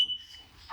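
A household smoke alarm set off with its test button gives a brief, high electronic tone that fades, then a second tone starts right at the end.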